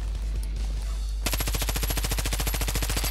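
Rapid pistol gunfire in Far Cry 5, a fast string of evenly spaced shots bursting in after a moment of quieter background noise.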